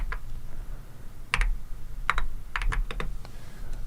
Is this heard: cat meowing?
no